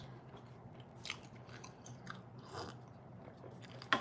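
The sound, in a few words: biting and chewing a crunchy baked breakfast item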